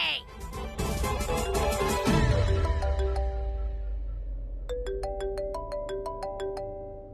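A phone ringtone for an incoming video call plays a bright repeating melodic chime of tonal beeps. It rings loud and near over background music that swells and falls, with no talking over it.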